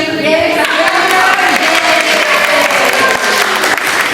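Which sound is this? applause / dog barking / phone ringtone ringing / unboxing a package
applause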